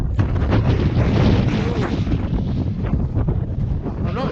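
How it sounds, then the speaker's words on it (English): Strong, continuous wind roars across the microphone atop the Glyderau mountain ridge, a loud low-frequency rumble with gusty buffeting throughout and no clear speech. "Top of the ridge and well windy."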